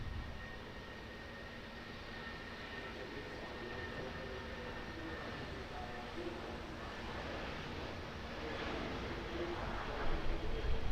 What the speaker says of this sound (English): Got a Jetstar Airbus A320 now rolling on 23 left.